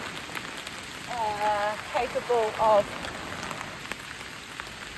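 Steady rain patters on a camping tent, a continuous soft hiss of drops throughout while a person speaks briefly in the middle.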